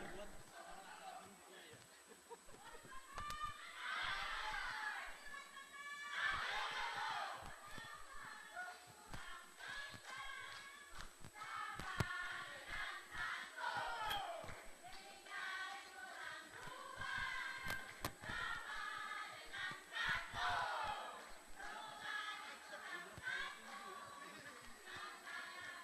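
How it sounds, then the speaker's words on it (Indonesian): Supporters of a numbered candidate chant campaign yells at a public debate for deputy mayor in Gorontalo, a sustained crowd of voices chanting rhythmically at steady volume across the whole stretch. "Saya ingin dengar yel-yelnya."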